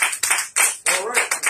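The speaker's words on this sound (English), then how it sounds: "let's give the Lord a hand clap of praise" A congregation at a church service claps hands in praise, a loud, close burst of about six rhythmic claps in quick succession, with voices mixed in.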